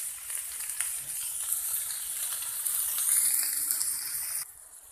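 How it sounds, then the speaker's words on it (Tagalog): Water pours into a cooking pot holding baby corn, a steady gushing hiss that runs for about four seconds and then cuts off, with no talk over it. "Nilagyan ko ng konting tubig para kumulo siya."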